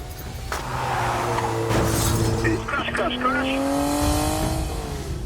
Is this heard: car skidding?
yes